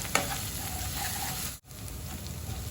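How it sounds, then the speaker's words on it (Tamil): Ginger garlic paste and onion sauté in a pot with a dense, steady sizzle, close and fairly loud, briefly cut by a sharp dropout midway. "இப்போ நம்ம இதை நல்லா வதக்கி எடுத்துக்கலாம்."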